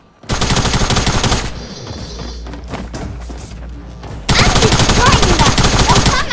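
Combat SMG fire in Fortnite rattles in two long, loud rapid-fire bursts at the start and end, with quieter game noise between them.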